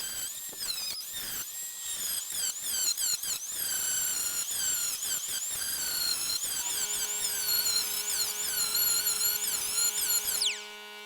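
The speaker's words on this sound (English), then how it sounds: "I'm gonna grind off the plug welds real quick. 36 grit on this." A grinder with a 36 grit disc grinds off plug welds on the floor of a 1971 Chevrolet Nova, a continuous high whine with rough, pulsing bites against the metal that spins down at the end.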